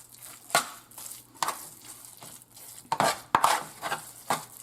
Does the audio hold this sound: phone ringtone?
no